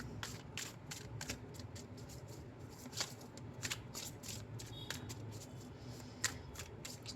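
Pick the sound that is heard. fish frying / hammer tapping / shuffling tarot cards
shuffling tarot cards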